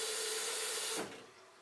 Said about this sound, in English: I'm going to give my glass a cold water rinse as per usual